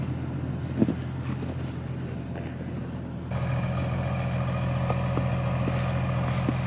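Several parked vehicles, a Toyota 4Runner among them, idle to warm up on a snowy winter day near Chicago. A steady low rumble holds throughout and grows slightly louder and fuller partway through.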